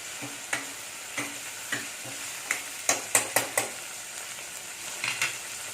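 Onions and spices sauté in a pan for a cabbage and chana dal kootu, a soft steady sizzle broken by a series of sharp scraping taps of a spatula stirring against the pan.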